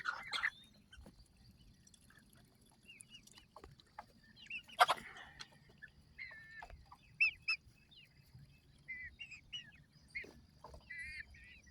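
Chickens cluck softly and intermittently nearby, with occasional louder squawks over a quiet background.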